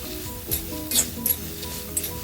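Urad dal dry roasting in a heavy pan is stirred over medium flame, giving a few soft scraping and clinking strokes with a faint sizzle, close and quiet.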